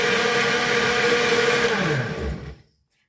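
An electric blender whirs loudly at a steady high speed while blending homemade Nutella as corn oil is poured in; the motor holds constant, then winds down and stops, leaving silence.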